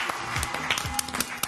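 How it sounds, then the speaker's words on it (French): A small crowd applauds a hula hoop coach in a televised sports segment, with brisk, scattered claps and some faint voices mixed in over a short burst. "je vous demande de l'applaudir"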